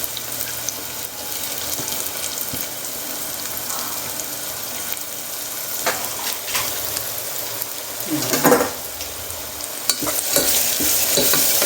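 Chopped large onions sautéing in hot oil while being stirred around the pan, a continuous sizzle with scraping stirs and occasional louder clattering bursts, no talk.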